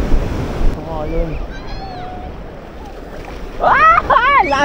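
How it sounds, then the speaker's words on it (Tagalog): Surf rushes and crashes steadily close by, with excited voices shouting over the roar of the water. "Lakas ng alon!"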